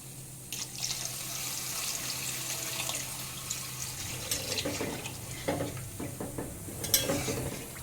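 Water pours into a pan of Bengali fish curry cooked without onion or garlic, a soft splashing trickle that swells and clatters briefly, with faint sizzling and a few utensil knocks.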